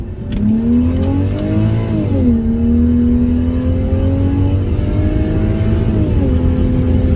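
A Porsche 986 Boxster engine held in first gear during a launch, revving loudly and climbing steadily in pitch, briefly dipping at a shift before rising again, close and dominant with no talk.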